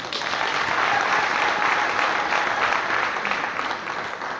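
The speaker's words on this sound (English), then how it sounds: "Please, let's give them a hand of applause." Audience applause at a graduation ceremony at the Palais des congrès, a dense, steady crowd clapping throughout with no speech.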